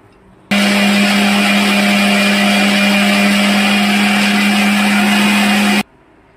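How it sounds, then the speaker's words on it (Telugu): A mixer grinder blends six tomatoes in a steady, loud whir, with a strong motor hum that starts abruptly, runs unbroken for about five seconds, and cuts off sharply. "ఈ సైజు ఒక 6 టమాటోస్ తీసుకున్నాను. తీసుకొని ఇలా మిక్సీ పట్టుకున్నానండి"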